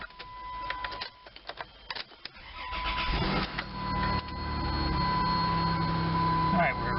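A Dodge Caravan engine cranks with clicks and whirring, then catches and settles into a steady idle that runs on, with brief mechanical noises early on.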